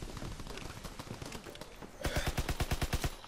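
Unsuppressed gunfire in a video game: scattered shots at first, then a fast, loud burst of about a dozen evenly spaced rounds, close and with no talk.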